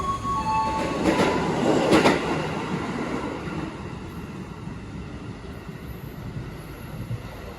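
Commuter train pulling into Batu Ceper station in Indonesia, with a rumbling, rolling rush of rail cars and brief high wheel squeals early on, settling into a steady low rumble, with no talk.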